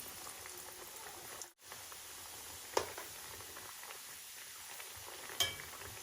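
Samosas fry in hot oil as a faint, steady sizzle and bubbling at home during Ramadan iftar cooking, broken by a couple of brief clicks and one short dropout.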